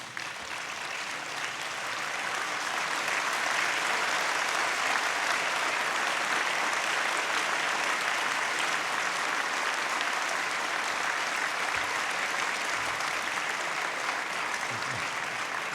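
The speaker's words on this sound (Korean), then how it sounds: "크게 박수해 주시면 감사하겠습니다" A congregation at a 130th anniversary mission worship service claps loudly to welcome overseas guests, a broad, sustained wash of applause that swells in over the first two seconds and holds steady to the end.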